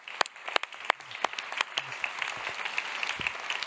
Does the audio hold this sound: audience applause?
yes